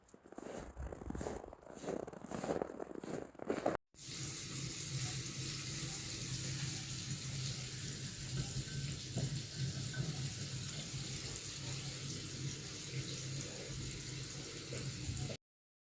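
Tap water runs steadily into a container meant to hold freshly cut birch or willow branches, a continuous close hiss following a brief burst of rustling and handling noise at the start.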